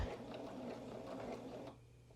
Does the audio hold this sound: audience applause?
no